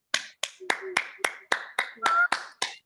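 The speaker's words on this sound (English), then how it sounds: "Let's give everybody a round of applause." A short burst of sparse hand clapping, about ten distinct claps in quick succession, close and fairly loud.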